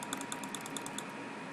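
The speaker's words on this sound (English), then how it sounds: "It sounds like I'm playing on a keyboard." Rapid clicking of computer keys in The Stanley Parable, about a dozen quick taps in an uneven burst over a steady background hiss, close and faint, then fading out.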